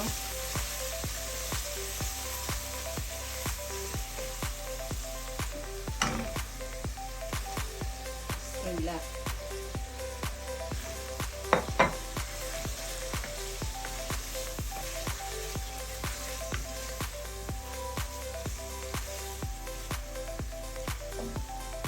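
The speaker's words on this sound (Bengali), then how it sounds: "একটুখানি কষানি হোক চিংড়ি মাছ" Shrimp frying in a pan for a curry with ash gourd, a steady loud sizzle and crackle with occasional sharper pops and stirring sounds throughout.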